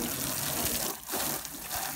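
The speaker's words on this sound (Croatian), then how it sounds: "što se kaže, poprskamo vodom." A black Mercedes W212 sedan being sprayed down with water during a wash: a continuous close hiss and splatter of water hitting the body, briefly dipping in the middle, no voices.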